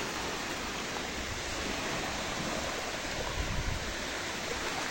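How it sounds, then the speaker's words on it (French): Rising water along a Costa Rica shore in Guanacaste, a steady, broad wash of surf and flowing water that stays fairly constant throughout, with no voices. "Bon bah l'eau elle monte là."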